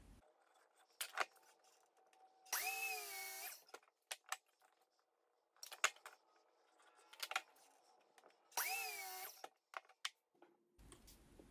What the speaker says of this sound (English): I drill a shallow hole to sink the screws